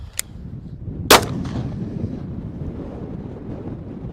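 A 9mm pistol loaded with full metal jacket rounds fires at a pumpkin on an outdoor range: two sharp reports, a small one then a louder crack, over steady wind rumble.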